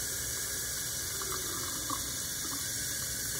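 Cold water runs steadily from a tap into a sink while preparing to tie-dye, a constant broadband rush that stays even and fairly close throughout, with no talking.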